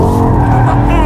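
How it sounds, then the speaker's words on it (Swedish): A heavy BMW X5M SUV slides in a long skid on a test track, its tires squealing steadily under loud engine drone for about a second, with faint voices underneath. "Det var en lång sladd på den där, känner du?"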